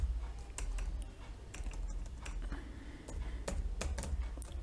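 Steady, close typing on a computer keyboard while entering a filter command in Google Earth Engine, with irregular clicks over a constant low background hum.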